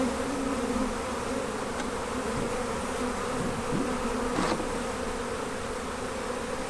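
Honey bees in a Maisemore Commercial poly hive during a nuc transfer: a dense, continuous close-up buzzing hum from a mass of bees, steady for several seconds with occasional individual bees droning past.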